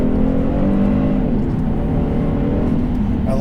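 A Genesis G70 3.3T twin-turbo engine revs hard under load. The loud, sustained drone shifts in pitch as it climbs and falls, and it plays alone without any talking.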